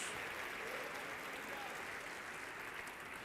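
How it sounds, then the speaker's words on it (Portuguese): Church congregation clapping during a sermon, a faint, steady patter of many hands spread across the room, continuous and even. "Aplauda mais forte ao nome do Senhor"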